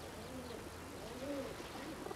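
Racing pigeons coo softly and repeatedly, low throaty calls rising and falling, faint and somewhat distant over a steady background hiss.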